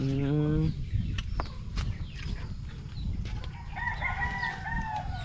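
A rooster crows loudly at the start and again more faintly later among clucking chickens in a village yard in Barangay Cocornon. Background voices and other farmyard noise run underneath.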